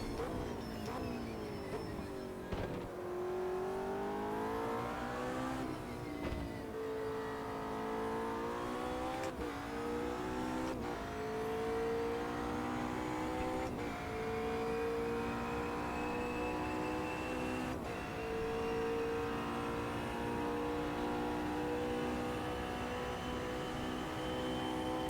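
A GT-class race car engine in Automobilista 2 roars through a qualifying-pace lap of Imola at dusk, revving up steadily and dropping pitch at each gear shift, loud and continuous throughout with no voices.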